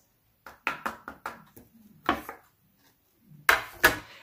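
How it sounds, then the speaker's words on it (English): Black embossing powder tapped off a stamped paper card: a quick run of light, dry taps, then a couple of louder knocks after a pause, close by with no talking. "I can get my black powder, embossing powder, and I'm just going to sprinkle that over the areas and then tap off any"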